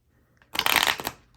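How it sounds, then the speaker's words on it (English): A brief burst of tarot cards being shuffled, a quick riffling flutter lasting under a second, close by, after a short quiet pause. "Let's shuffle this one more time."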